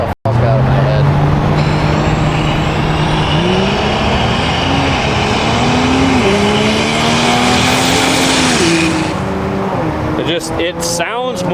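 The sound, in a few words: truck engine running, sounding angry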